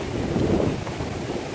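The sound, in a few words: rain and wind on a rough sea during a hurricane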